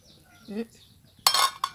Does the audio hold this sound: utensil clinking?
yes